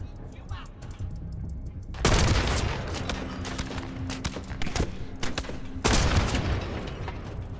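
Sniper rifle fire in Monster Hunter World on PC, with two loud broadband shots about four seconds apart over a busy game soundscape.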